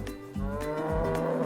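A black-and-white farm cow gives one low, moderately close moo that fills the short moment, with no voices over it.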